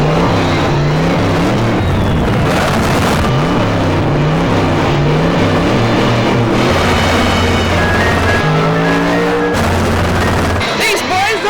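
Cartoon racing vehicles roar and whoosh in a loud, busy sound-effect mix, with wavering engine tones rising and falling and boomy bursts, continuous throughout.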